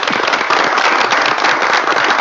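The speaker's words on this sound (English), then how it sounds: "Everybody, a round of applause for Brian." A meeting audience applauds loudly and steadily with dense, continuous clapping from many hands throughout the moment, and no voices rise above it.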